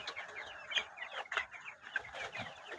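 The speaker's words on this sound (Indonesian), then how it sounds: "ayam pedaging ini berumur lebih kurang sekitar 2 minggu ya" Broiler chickens around two weeks old cluck and chirp continuously in a school poultry house, a busy overlapping chorus of short calls at close range with no talking.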